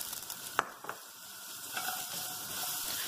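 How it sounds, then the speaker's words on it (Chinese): Fresh mushrooms stir-fry in a little oil for a tomato and potato vegan soup, a soft steady sizzle with a couple of faint scraping taps of a spatula early on, no voices. "爆下嗰啲新鲜蘑菇。"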